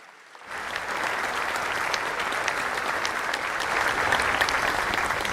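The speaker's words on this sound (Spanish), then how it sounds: "Y un aplauso más fuerte para todos nuestros pastores" Congregation applauding at a Holy Mass in Caacupé, sustained dense clapping from a large crowd that starts suddenly and holds steady, swelling slightly toward the end.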